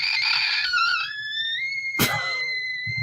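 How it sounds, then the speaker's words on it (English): A person screeches with delight in a long, high, wavering squeal that rises and holds, followed by a second short burst, loud and close in a casual indoor setting. "No, why are you screeching?"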